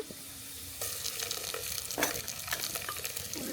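Onion frying to light brown in a pan as whole spices and ginger-garlic paste go in, a bright continuous sizzle that jumps louder when the additions land, with light stirring scrapes and no voices.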